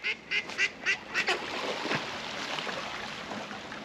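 A run of five or six quacks from ducks near the water in Scotland, rhythmic and fairly close, followed by a softer stretch of outdoor ambience with faint scattered sounds.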